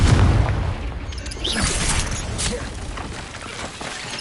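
The Confringo blasting spell explodes in Hogwarts Legacy with a loud, booming blast followed by a rumbling, crackling tail over dense in-game action noise.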